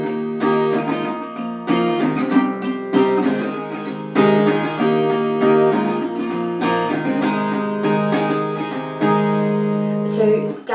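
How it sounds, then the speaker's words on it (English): Acoustic guitar strummed in a steady chorus pattern for a song, bright chords ringing continuously with rhythmic down-up strokes, close and clear with no talking. "So the strumming pattern I recommend for the chorus sounds like this."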